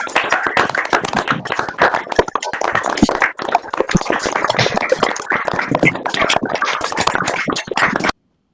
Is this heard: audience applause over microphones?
yes